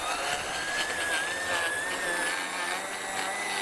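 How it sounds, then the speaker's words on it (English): Victa 80V battery string trimmer fitted with an edging attachment runs steadily outdoors, a continuous high whine with a slight pitch wobble, close and loud, with no talk over it. "we'll see how we go with the edging attachment on it"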